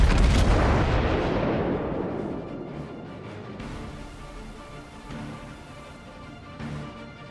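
A Montana battleship's heavy guns fire in a World of Warships random battle: one loud booming salvo that rolls away into a long rumbling decay, followed by fainter distant thuds.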